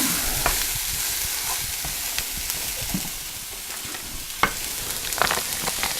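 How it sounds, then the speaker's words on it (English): Cauliflower rice stirred in a hot pan for a mushroom and asparagus risotto, a constant close sizzle broken by scraping spoon strokes and a couple of louder knocks against the pan. "We're going to add this rice, this cauliflower rice. I'm going to stir this up."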